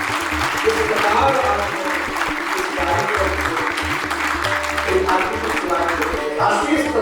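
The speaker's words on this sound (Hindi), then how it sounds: "आदरणीय श्री कोटि वशिष्ठ जी एक बार जोरदार तालियों के साथ में ताली गर्जना होनी चाहिए" Loud, sustained applause from a large audience at a national Brahmin conference and awards ceremony, steady clapping throughout with a rhythmic low background of music or drumming beneath it.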